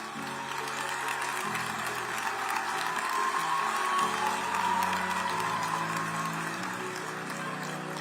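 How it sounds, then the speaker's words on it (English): Audience applause for a national top achiever at a matric results announcement, a fairly faint, steady patter of clapping from a crowd that lasts throughout, with some low background murmur. "Can we please give Kamugelo a round of applause?"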